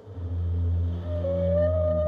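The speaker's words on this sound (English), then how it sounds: "Whales do make noises, but different from what you'd expect." A whale vocalization, a long low drawn-out moan with a rising tonal whistle layered on top, steady and sustained with no talking.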